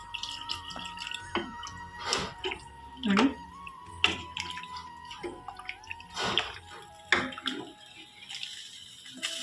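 Water is poured into a pot of dalcha, a tamarind-soured lentil curry, in a home kitchen, giving intermittent splashing and trickling bursts with a quiet voice speaking briefly.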